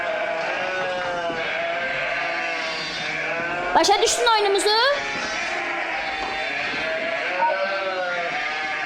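A sheep bleats a couple of times in the middle of a game show segment, short wavering cries heard under a steady stream of talk.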